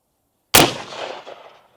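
.50 caliber sniper rifle shot at an engine block outdoors: one sudden, very loud crack after silence, followed by a booming echo that decays over about a second.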